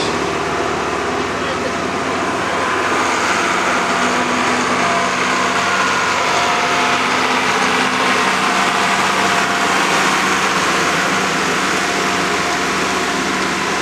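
A Case pulling tractor engine idles with a steady, droning rumble that holds constant throughout, loud and close, with crowd ambience behind it at a tractor pull.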